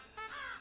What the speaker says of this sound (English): These pesky crows have driven me crazy.